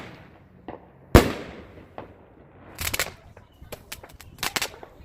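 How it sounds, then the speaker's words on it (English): Small fireworks set off in a front yard on New Year's Eve, one loud sharp bang followed by a string of irregular crackling pops and bursts nearby, no talking. "I'm just gonna leave you with enjoying these little fireworks"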